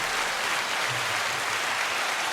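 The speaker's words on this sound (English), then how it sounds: "Round of applause for Bailey." A round of applause for Bailey: a steady, dense wash of clapping that stays even and fairly loud from start to finish, with no talking over it.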